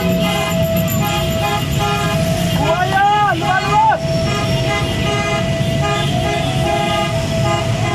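Car horns toot in a short cluster of honks over steady traffic noise, with a voice talking throughout.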